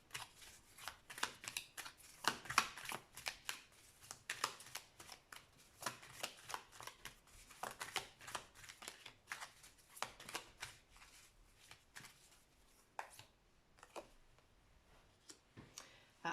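Tarot cards being shuffled and laid out during a reading, a long run of quick papery riffles and soft slaps that stays close, with faint breaks in between and no talking over it.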